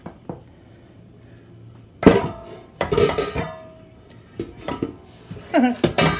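Focaccia dough is dropped into an oiled pan amid kitchen handling: a quiet start, then a series of loud dull thumps and clattering knocks of cookware, close by, without talk.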